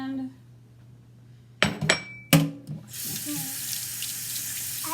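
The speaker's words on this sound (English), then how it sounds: "I wash my hands." A kitchen faucet gushes into a sink as hands are washed, a steady close rush of water after a few clinks and knocks, with a faint voice nearby.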